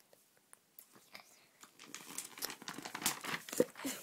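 Paper pages being chewed and torn, a run of crinkling, crunching and ripping that starts sparse and faint, then grows busier and louder, close to the microphone with no talking.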